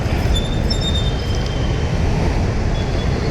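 Steady low rumble of a metro train at Lissie metro station in Ernakulam, Kochi, with faint high metallic squeals from the wheels and a constant loud hum throughout.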